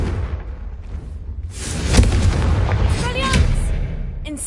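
A Confringo blasting spell exploding in a wizarding video game, a rising rush that bursts into a loud booming blast with a crackling, rumbling tail, with a voice heard briefly alongside.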